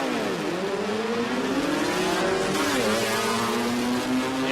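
A 2.3 litre Volkswagen Beetle revs hard off the line at a drag strip, its engine note climbing through rapid gear changes. The engine is loud and sustained over a steady crowd and track background.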